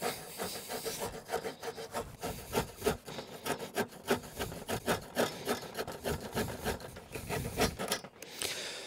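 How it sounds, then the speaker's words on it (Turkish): A small Victorinox Fieldmaster pocket saw cuts through a thick branch, giving a fast, rhythmic rasping of back-and-forth strokes, close and steady, ending briefly near the end. "bu kadar kalın bir dalı bu kadar küçük bir testereyle kesebilecek mi"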